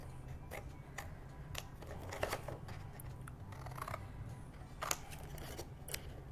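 Scissors snip through paper pieces for a craft monster bookmark, giving quiet, sparse crisp cuts with short gaps between them, close and alone.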